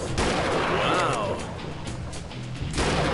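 Gunfire sounds in the hunting video game Treibjagd 3D: loud sharp shot bursts with rumbling decay at the start and end, plus a whooshing sweep between them, with a voice present.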